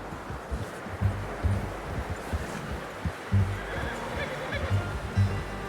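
A horse neighs with a short whinny amid hoof clops and rustling in Red Dead Redemption Undead Nightmare, with faint talking in the background.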